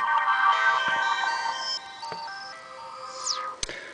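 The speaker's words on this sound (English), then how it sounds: "first thing we're going to do here is we're going to power down the phone." A Samsung Sidekick 4G phone plays its power-down tune, a bright multi-note electronic chime with sustained tones, ending in a quick descending sweep and a sharp click, loud and close with no talk.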